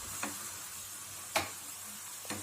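Hot tempering being stirred into red chilli tomato pickle, a steady soft sizzle with three sharp spoon knocks against the pan spaced about a second apart, no voices.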